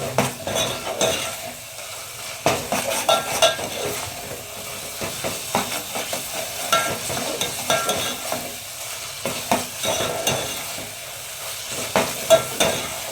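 Ginger sautéing and being stirred in a pan for vegetable biryani: a steady sizzle broken by repeated scraping strokes of a spoon or spatula against the pan, close and moderately loud, with no talking.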